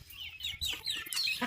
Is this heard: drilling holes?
no